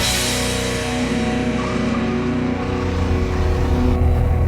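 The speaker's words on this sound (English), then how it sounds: "So we're going to do 0 to 60 in the Corvette Grand Sport, and let's see how she does." A 2017 Chevrolet Corvette Grand Sport's engine roars loudly and steadily during a 0 to 60 mph acceleration run, a dense continuous drone that rises slightly in intensity toward the end.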